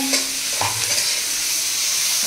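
Fish frying in a pan, a steady broadband sizzle running throughout with a faint clink of stirring near the start, close and fairly loud with no talking.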